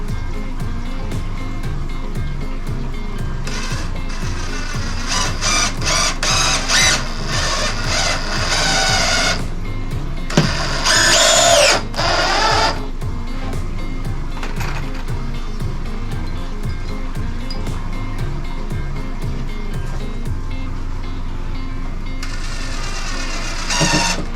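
A power drill drives screws into wooden rails while a strong reef tank stand is built, 10-inch end rails joined to 30-inch side rails; several bursts of whirring and ratcheting stand out loud and close, with workshop clatter in between.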